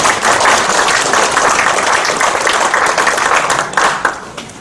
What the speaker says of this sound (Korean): 힘찬 박수로 모시겠습니다.